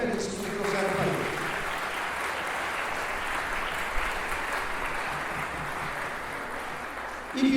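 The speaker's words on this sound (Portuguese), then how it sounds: "Eu queria então nesse momento dar uma salva de palmas" An audience at a legal lecture event applauds, a sustained wash of clapping from a large room that holds steady and then fades near the end, with brief voices at the start.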